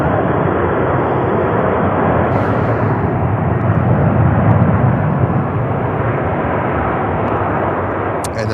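An Airbus A321 airliner passes near Charlotte airport with a loud, broad, continuous jet roar that swells slightly midway and holds steady throughout.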